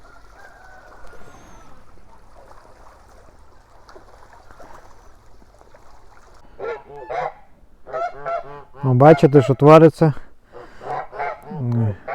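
Kholmogory geese honk in loud, harsh bursts that build in the second half, close by, after a quieter stretch where someone speaks.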